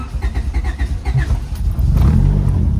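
Honda Civic EM1 engine after a distributor swap, a loud close starter cranking in rapid rhythmic pulses that catches and settles into a steady running rumble.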